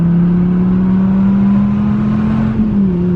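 A powerful car engine drones loudly and steadily, its pitch holding then rising slightly, heard from inside the car with no talking.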